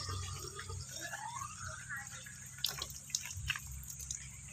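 Water pours and trickles into a deepwell water pump fitting during installation, a faint running splash under quiet voices, with a few sharper drips and knocks toward the end.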